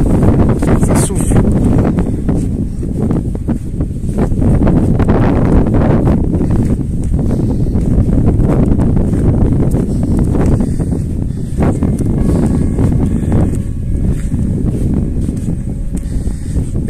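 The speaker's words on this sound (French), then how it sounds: "Il y a du vent." Heavy outdoor wind buffets the microphone in a constant loud roaring rumble with gusty surges throughout.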